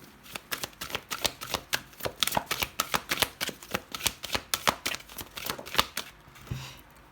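A rapid run of crisp card riffles and snaps, steady and close, continuing for several seconds before stopping near the end.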